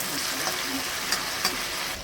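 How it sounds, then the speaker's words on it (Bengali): Masala paste of turmeric and chilli powder, a splash of water and tomato sizzles and spits in hot oil in a pan while being stirred, a steady close crackle for potol dhokar dalna. "মশলাটা অনেকটাই কষে এসেছে"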